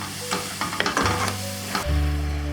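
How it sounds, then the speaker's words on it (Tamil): Masala frying in oil in a pan for a Tamil-style fresh mochai egg gravy, a close, steady sizzle with stirring scrapes and clatter, loud and continuous throughout. "ஒரு 2 நிமிஷம் மட்டும் இந்த இருக்கிற ஆயிலே வந்து லைட்டாக போட்டு ஃப்ரை பண்ணிக்கோங்க"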